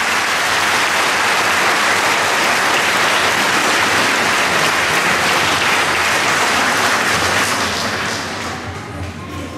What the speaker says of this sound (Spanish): Y un aplauso para el cabildo entrante